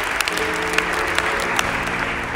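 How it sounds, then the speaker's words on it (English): A church congregation clapping hands and rejoicing, steady dense applause at moderate loudness with a few sharper individual claps standing out, throughout a short stretch. "can we just clap our hands and rejoice?"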